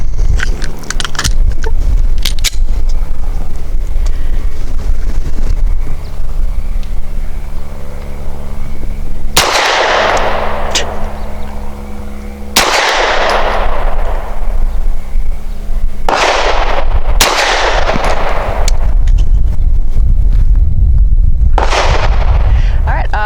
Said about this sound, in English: I'm shooting Winchester's 90 grain, super clean ammunition. 3 rounds, target number 1.